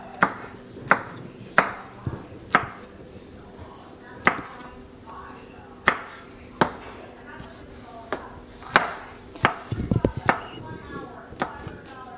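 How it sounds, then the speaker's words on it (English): A knife on a cutting board finely chops garlic, cabbage and onions for lumpia, giving sharp, irregular knocks about every half second to second. Some come as quick doubled strikes, and a brief clatter of smaller taps follows near the end. "Alright, so now we'll start cutting up our garlic and our cabbage and our onions"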